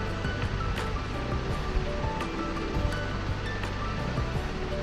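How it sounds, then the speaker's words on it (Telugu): A kilo of fresh chicken goes into ginger garlic paste frying for a chicken curry, giving a steady, close, broadband sizzle and hiss with a few soft knocks and stirs throughout. "ఇప్పుడు చికెన్ మొత్తం క్వాంటిటీని కేజీ చికెన్ని దాంట్లో వేసేస్తున్నామండి."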